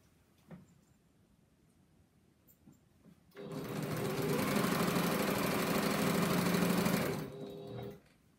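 A sewing machine stitches binding onto a quilt, starting after a few faint handling clicks and running as a steady, close, whirring motor drone for about four seconds before winding down.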